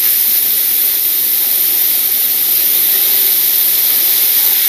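Steak sizzling in a hot pan over medium heat, a steady, loud, broadband hiss that runs unbroken with no talking.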